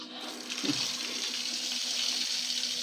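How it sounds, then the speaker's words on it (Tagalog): Water runs steadily from a tap opened to release pressure from a household water filter during filter replacement, a soft continuous hiss at close range with no talking. "Then after po natin ma-close, open po tayo ng gripo. Ito po, release po tayo."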